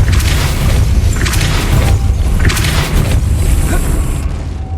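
The Depulso spell is cast in the video game Hogwarts Legacy, making loud, deep booming blasts with rumbling low end and bright bursts, rolling continuously with no pause.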